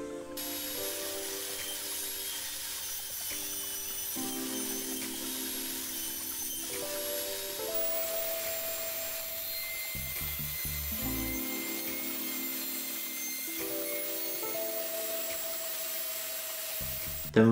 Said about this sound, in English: So I set the height on the table saw blade and move the fence in, and then set about cutting the strips.